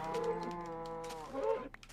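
Cow mooing in Minecraft Xbox 360 Edition: two drawn-out, close, clear moos in quick succession with no speech over them.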